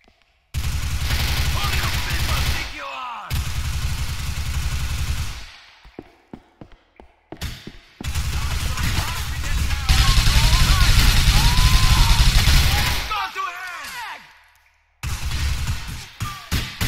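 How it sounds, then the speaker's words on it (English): Dense bursts of automatic gunfire from a Grand Theft Auto 4 shootout rattle loud and close in long sustained volleys, broken by brief gaps, with voices shouting over the firing. "There's one guy shooting at you guys."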